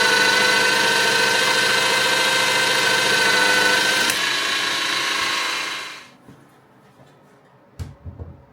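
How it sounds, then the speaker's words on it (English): A drill bores small 4mm holes into a carbon steel knife blank, giving a loud, steady whine for about six seconds that then winds down into quiet, followed by a brief knock. "I'm going to now drill out some small 4mm holes"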